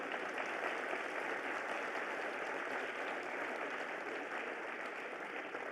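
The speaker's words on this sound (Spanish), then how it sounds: "Damos todos un fuerte aplauso y le cedo la palabra" Sustained audience applause at a theology conference, a steady dense clapping wash from a large crowd that holds at an even level throughout with no talking over it.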